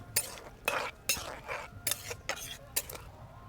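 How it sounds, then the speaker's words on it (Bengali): A spoon stirs fruit chutney with tamarind in a pan, scraping and clinking against the metal in repeated strokes about every half second. The sound is close and fairly loud, with no talking. "এগুলি দিয়েও আমি কিছুক্ষণ নাড়িয়ে নিলাম আর ভালো করে ফুটিয়ে নিচ্ছি"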